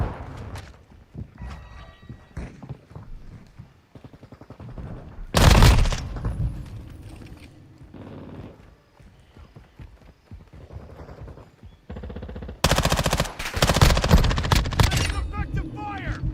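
Gunfire from Call of Duty Modern Warfare II comes in loud, dense bursts with quieter gaps between them, mixed with footsteps and in-game radio voices.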